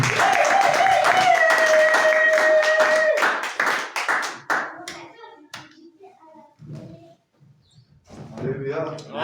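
A church congregation clapping together in a steady, rhythmic beat with voices singing or calling out over it, then the hands fade into scattered speech and quieter moments.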